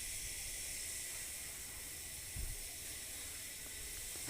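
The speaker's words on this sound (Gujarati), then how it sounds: "હવે એક બાજુ આપણે તેલમાં થોડા મરચાં મેં આમ ચીરીને રાખ્યા હતા તો એને તળી લેશું" Slit green chillies frying in hot oil in a pan, a faint, steady, broad sizzling hiss that holds evenly throughout with a small crackle partway through.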